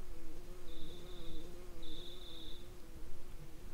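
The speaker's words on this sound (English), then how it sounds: "Do you hear a buzzing that sounds like a bee flying around?" A buzzing bee-like tone from the video game EarthBound, heard in two steady high-pitched bursts, the second longer, over a low droning game background without talk.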